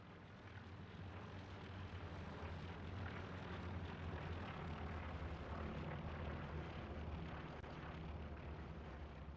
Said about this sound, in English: Oh, that was an ANZR recon plane that went over.